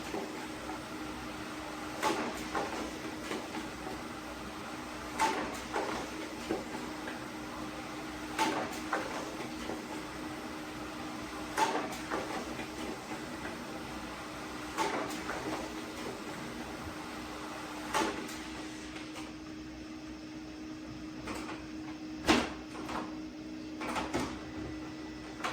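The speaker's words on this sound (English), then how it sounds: "It doesn't print out exactly like one of your industrial size printer, but it's still doing pretty good." A single-tray printer runs off loan documents with a steady mechanical hum, punctuated every few seconds by sharp clicks and paper-feed clunks as sheets pass through, fairly quiet and close.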